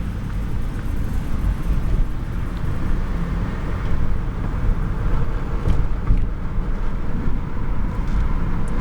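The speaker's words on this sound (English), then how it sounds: "Okay. I'm driving down the road." A 2006 Buick fitted with a gas vaporizer cruises down the road, a steady interior hum of engine and tire rumble, moderately loud and unbroken, with no speech.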